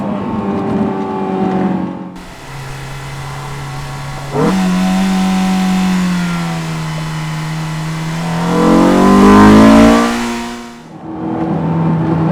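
A Honda S2000 AP1 with a 9000 RPM redline, six-speed manual and rear-wheel drive revs hard through the gears, its high-pitched engine note climbing loudly in long sweeps with short drops at the shifts.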